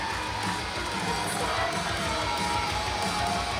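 Wrestling crowd at a Limitless Wrestling show cheering and shouting in a continuous loud roar, with whoops and higher children's shouts rising out of the dense wash of voices.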